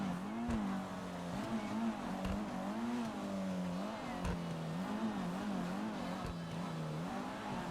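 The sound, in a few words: car engine revving and driving in a video game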